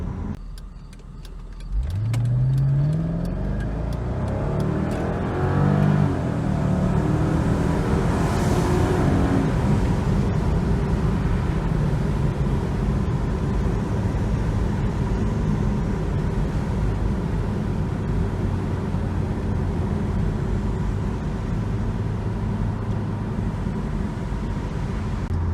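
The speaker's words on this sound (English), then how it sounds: "it does have pretty decent power, good acceleration, definitely feels nice, sounds nice" A 2003 Mercedes-Benz SL 500 engine starts up and revs, rising in pitch, then roars steadily as the car accelerates hard for a long stretch, loud and close.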